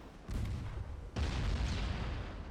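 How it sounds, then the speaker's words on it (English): Torpedoes launch from a warship in a naval video game with two heavy, booming whooshes in quick succession, each followed by a sustained rumbling roar. "Your torpedoes got off the rails."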